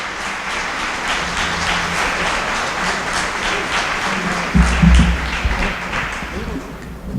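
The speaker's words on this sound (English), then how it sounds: "So give him a huge round of applause and a blessed welcome" Audience applause at a celebration for the approval of a regional medical center, a dense sustained round of clapping that swells louder near the end.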